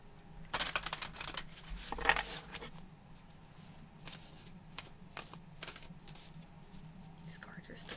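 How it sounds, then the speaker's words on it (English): A fairly new, stiff deck of cards is shuffled in bursts of papery riffling and flicking, fairly close and soft, with low murmuring talk and background hum between the shuffles. "They're a little hard to shuffle."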